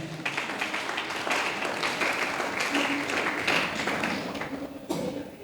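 A church congregation applauds during a sermon, a dense, sustained clapping that swells and continues for several seconds in a reverberant hall.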